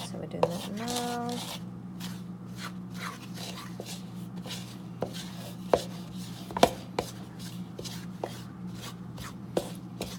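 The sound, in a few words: stirring flour into wet cookie dough ingredients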